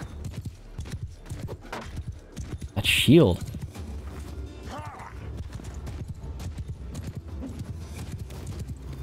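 Hooves clatter in a steady clip-clop as horses move through a battle in Mount & Blade II: Bannerlord, with a brief whinny midway. Someone talks loudly over them throughout.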